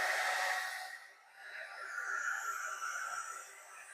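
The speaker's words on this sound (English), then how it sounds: "Hit it again with the heat gun." A heat gun blows a soft, breathy rush of hot air over carved foam scenery for a model railway layout, fairly quiet and wavering as it moves across the surface, with no voices.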